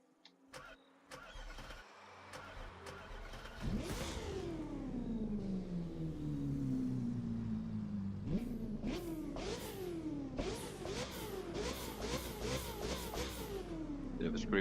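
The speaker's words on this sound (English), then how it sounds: "Bit of a screaming engine." BMW M6 GT3 race car in The Crew 2 firing up with a rising crank, then a screaming engine held high before a run of sharp, repeated revs and blips, loud and close with faint talk underneath.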